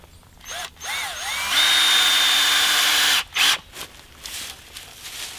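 A power drill drives screws into 2x4 joists for a cabin floor, with short whirring bursts rising in pitch, then a sustained loud drilling run, followed by brief clunks and handling noise.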